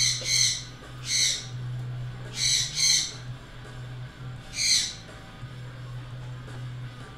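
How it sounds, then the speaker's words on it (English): A pet bird screams indoors with four or five loud, harsh squawks in uneven bursts, some paired, over a steady low electrical hum. "So I don't know why the bird is screaming right now."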